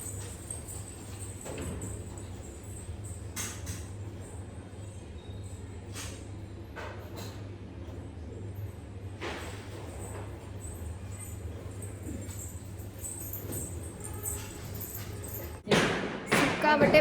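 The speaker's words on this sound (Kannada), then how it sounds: "ಪಟಾಕಿ ಸೌಂಡು ಏನಾದರೂ ಮಾತಾಡೋಣ ಅಂದರೂ ಮಾತಾಡೋಕ್ಕೆ ಇಲ್ಲ" Scattered firecrackers pop at a distance over a steady background hum, with a louder, closer burst near the end.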